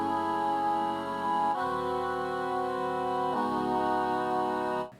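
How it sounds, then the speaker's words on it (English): A sustained synth melody patch from the Glaze plugin in a hip-hop beat, with layered chords that change twice and ring steadily, loud and close, with no talking. "I got this patch from Glaze again and added it."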